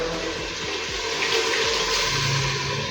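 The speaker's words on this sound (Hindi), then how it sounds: "4 कप मैंने पानी लिया, ये ऐड कर देंगे।" Water from a four-cup measure pours steadily into browned mutton keema in a cooking pot, a continuous close splashing wash with no talking.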